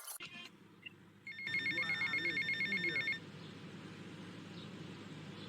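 A telephone rings repeatedly in GTA Vice City, a steady pulsing electronic ring lasting a couple of seconds over low ambient game sound, then cutting off.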